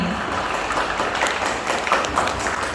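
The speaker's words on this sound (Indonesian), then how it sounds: "Tepuk tangan untuk semua tim." Steady applause from the audience at an Islamic boarding school debate competition for all the teams, close and fairly loud, with a few voices mixed into the clapping.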